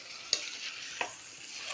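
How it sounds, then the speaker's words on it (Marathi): Goat mutton being stir-fried in a pot Konkani style, a soft steady sizzle broken by a few sharp scraping clicks of the spoon against the pot, with no voices. "आम्ही हे आता चांगलं सुंदर परतून घ्यायचं"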